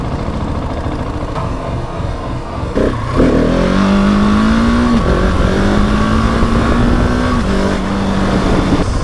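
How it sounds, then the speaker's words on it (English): A 2020 Husqvarna 701 motorcycle engine roars loud and close during a wheelie, revving hard before a brief dip for a gear shift, then holding a strong steady drone. "That was a nice shift through the wheelie."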